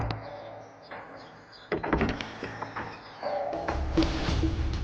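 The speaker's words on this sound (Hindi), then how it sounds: "दरवाजा खोल।" A door is opened indoors, with a quiet click followed by a clattering rattle and a sliding scrape, then a lower rumble that continues to the end, close by and moderately loud, with no speech.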